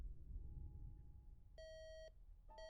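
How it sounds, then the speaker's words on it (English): Alarm clock in a bedroom, sounding two bursts of rapid electronic beeping, a longer run followed by a short one after a brief pause, clear and fairly close over a low background hum. "The alarm's harsh screech stabbed into the bedroom air"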